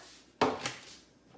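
A metal cookie sheet for molasses cookies set down with a single sharp clatter and a quick rattle after it, then ringing off quietly in a kitchen.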